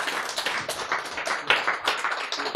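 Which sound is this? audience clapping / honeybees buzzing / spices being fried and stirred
audience clapping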